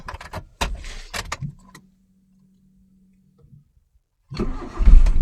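A Suzuki Zen car with engine trouble is cranked: clicks and knocks, then a steady low whine for about two seconds, silence, and finally a loud rough burst of engine noise, with no one speaking.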